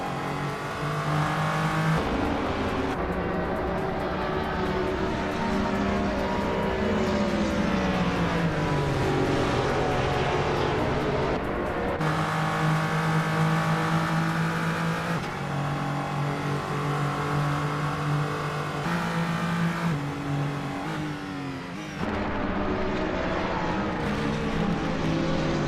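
Race cars in a racing video game roar continuously, engines rising and falling in pitch as they rev and shift, several cars overlapping in a dense, loud, unbroken drone with no talking.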